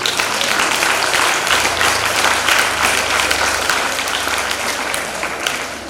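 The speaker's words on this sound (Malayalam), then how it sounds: "ജെയ്സ ടീച്ചറിന് നമ്മൾ നല്ലൊരു ക്ലാപ്പ് കൊടുക്കുക." An audience at a school yoga day applauds a teacher, with dense, steady clapping from many hands that holds strong throughout and tapers slightly at the end.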